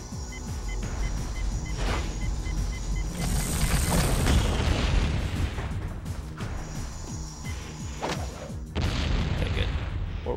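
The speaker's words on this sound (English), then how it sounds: "I never used to get like a bomb blow up every time" Bomb blasts in the video game Jak 2, several heavy booming explosions with crashing debris over a continuous game soundtrack, loud and close.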